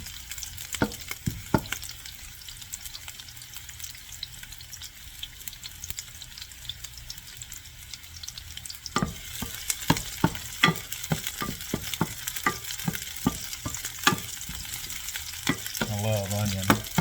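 Chopped onion fries in a hot pan for a chicken and vegetable stir fry, a soft steady sizzle broken by clusters of scraping stirs from a utensil in the second half, with no talking.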